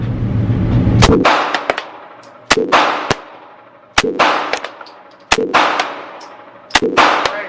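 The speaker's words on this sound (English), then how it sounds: "When I say fire, come up and fire 5, but not rapid fire." Five loud, sharp gunshots ring out one at a time at a shooting range, each a hard crack with a metallic clang and a decaying echo, spaced a second or more apart.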